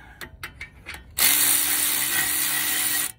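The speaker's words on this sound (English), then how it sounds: "Our electric ratchet." An electric ratchet whirs steadily for about two seconds, close and loud, while working on the front brakes of a 2012-2020 Ford Explorer, following a few quiet clicks and taps.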